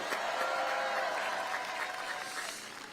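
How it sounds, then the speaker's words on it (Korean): Audience at a political speech in Pyeongtaek breaks into dense, sustained applause, many hands clapping in a steady wash that eases slightly toward the end, with no voices on top. "박수 한번 부탁드립니다"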